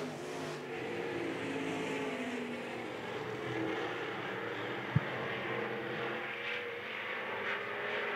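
IMCA stock cars race through heat laps at the dirt-track RPM Speedway during the Sunflower Classic, a steady roar of several engines that stays loud and constant throughout, with one sharp click partway through.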